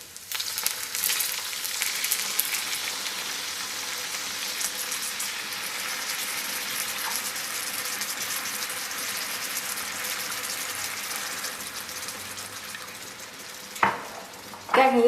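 Water poured into a hot pan of frying corn cakes made from flour and water sets off a loud, continuous hiss and sizzle, ending with a short clatter near the close.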